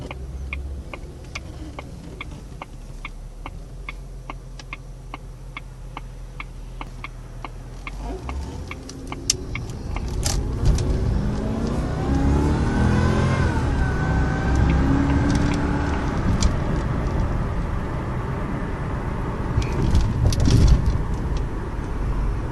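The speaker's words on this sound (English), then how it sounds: "Pickup on it is very good, very responsive, as you would expect from that supercharged V8" A silver 2000 Jaguar XJR with a 370 hp supercharged V8 idles with a low hum and faint ticking, then accelerates, its engine note rising and building into a strong, close roar for the rest of the run.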